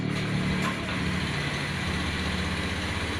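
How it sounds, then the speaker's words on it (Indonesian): A Honda Scoopy scooter engine, newly started after stalling, idles steadily with a low, constant rumble that continues evenly throughout. "Ini sekarang motornya kita hidupkan."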